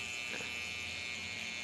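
Electric hair clippers buzz in a steady, even drone close by while trimming hair for a fade haircut, with no pauses or speech.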